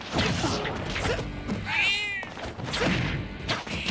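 A cat fighter meows in Super Smash Bros. Ultimate, with a high, wavering yowl near the middle set among fight impacts and busy game effects.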